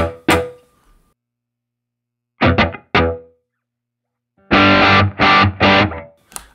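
Electric guitar played through a Line 6 Helix room reverb on firmware 3.15, several short distorted stabs and chords in bursts separated by silence, each with a brief roomy tail, loud and close.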